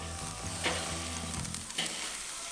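Carrots and green beans laid across a hot barbecue grill give a steady broadband sizzle, with a couple of brief sharper flares as pieces are placed or shifted; no one speaks.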